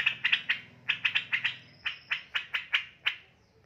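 A pair of young straw-headed bulbuls (cucak rowo), a nearly five-month-old male and a female, give a run of about fourteen sharp chirps in quick irregular bursts, close and fairly loud, over a faint low hum.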